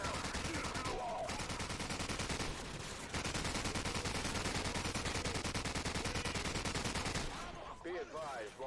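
Sustained machine gun fire in Call of Duty 4: Modern Warfare, a rapid, steady stream of shots running for several seconds, pausing briefly twice, then trailing off amid battlefield noise near the end.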